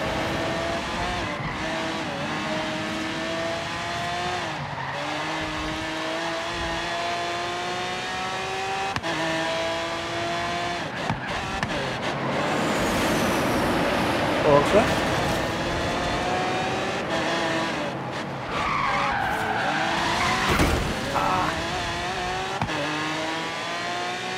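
Race car engine in Forza Horizon 3 roars and revs through gear changes while tires squeal and skid through corners, loud and continuous, with someone talking over the game audio.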